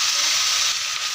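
Cauliflower frying in hot oil with cumin and fish belly pieces, a loud, dense, continuous hiss of sizzling oil that holds steady throughout, close up and with no talking.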